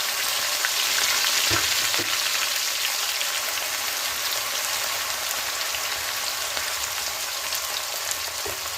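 Chilli, ginger, garlic and green chilli fry in hot oil after mustard seeds have spluttered, giving a loud, steady, dense sizzle with a few brief crackles and no talking.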